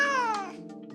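A cat gives a single close, loud meow that starts high and slides downward, with a short softer trailing sound near the end.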